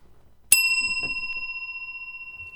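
A single bell struck once on a talk show, a sharp bright ding that rings on with a steady sustained tone, heard over faint background voices.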